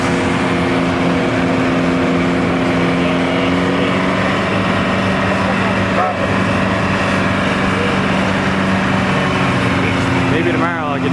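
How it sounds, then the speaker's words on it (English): A tractor with a GM diesel engine rumbles steadily at a parade, a loud, continuous throaty drone that holds close for the whole stretch, with crowd noise around it. "Sounds like it's got a GM diesel in it."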